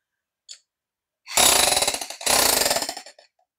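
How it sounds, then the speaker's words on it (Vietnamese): A used Japanese-market rotary hammer drill in chisel mode pounds away in two loud, close bursts of rapid hammering, each about a second long, with a short pause between them and no talking. "Những cái dòng mà khoan đục hai chức năng này nó đục mạnh dữ lắm anh em."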